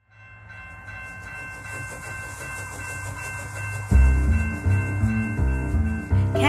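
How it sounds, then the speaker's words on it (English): Train moving on rails: a steady rolling rumble with tonal whine builds, then louder rhythmic clatter and pulsing wheel sounds take over partway through, close and continuous with no talking. "Let's hop on board the train and off we go."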